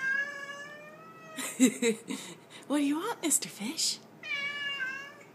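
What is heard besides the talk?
cat meowing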